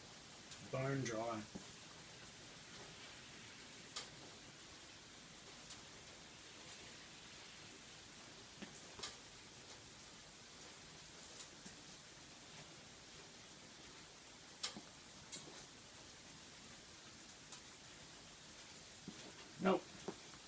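Steady, soft hiss of heavy rain drumming on a car, continuous throughout, with a few faint knocks and a brief voice near the start and end.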